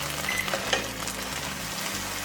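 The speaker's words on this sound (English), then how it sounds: "I'm going to add in about a teaspoon, maybe a little more, of garlic. Stir that in and just let that cook for an additional minute." Garlic sizzles steadily in a hot pan while being stirred, a constant close frying hiss with a few soft scrapes and clicks, no voices.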